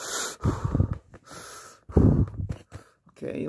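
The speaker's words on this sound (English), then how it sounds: "okay, I need you to breathe." Several heavy breaths in and out during a doctor's lung check, close to the microphone, separated by short pauses.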